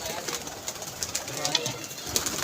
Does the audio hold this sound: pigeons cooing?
yes